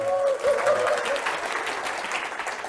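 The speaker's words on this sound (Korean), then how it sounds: "박수 한번 치고 시작하겠습니다." Audience at a talk gives a brief round of applause, moderately loud but slightly distant, with a voice briefly heard over the start of the clapping.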